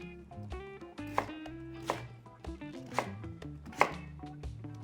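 Knife chopping half an onion and a sweet potato on a cutting board, steady near knocks of the blade with a few sharper louder strikes, no talking.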